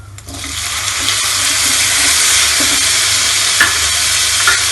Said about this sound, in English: Then garlic, ginger, red chili and curry patta. Then tomato,